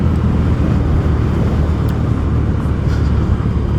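A Honda Dio 125 base-variant scooter under throttle produces a loud, steady engine drone mixed with heavy wind rush, continuous and unbroken with no voices.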